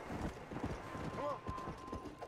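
Horse hooves clip-clopping in Red Dead Redemption: Undead Nightmare, the mystical horse of death, a steady rhythmic trot under game ambience with a brief whinny-like tone and someone talking over it.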